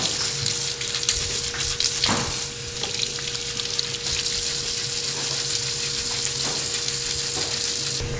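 Hot water runs steadily from a tap while metal jewelry is cleaned, a continuous close hiss and splash with a few brief clinks and surges, no voices.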